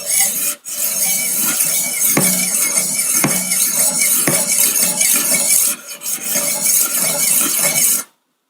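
A knife is drawn across the stones of a Wicked Edge Go sharpener in a run of close, even rasping strokes with brief pauses between them, ending abruptly.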